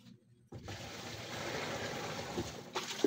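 Small engine-driven water pump running steadily for laundry washing, a continuous broadband rumble with watery churning that starts abruptly after a brief quiet moment and holds at an even level.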